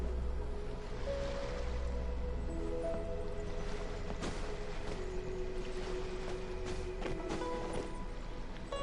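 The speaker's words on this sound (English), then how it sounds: "The sound of the ocean waves." Ocean waves wash in Genshin Impact, a soft broad surf rush running throughout under scattered game sounds and faint tonal chimes.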